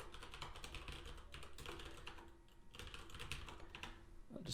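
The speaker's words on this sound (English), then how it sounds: "So I'm going to type in some information." Fingers typing on a computer keyboard in quick, irregular bursts of close clicks and taps, fairly quiet, with a brief pause midway before the keystrokes resume.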